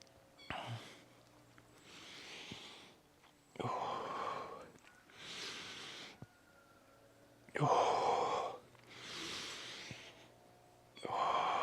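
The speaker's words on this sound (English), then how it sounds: "You can hear my breathing pattern is syncing up with an inhale and then an exhale." Slow, deliberate breaths alternate in and out, about seven audible inhales and exhales, close and soft with quiet pauses between them.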